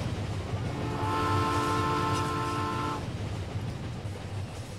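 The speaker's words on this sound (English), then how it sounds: "There goes the train." An electric train in the video game My Summer Car sounds a long steady horn for about two seconds over a continuous low rumble of it passing by, then the horn cuts off and the rumble carries on.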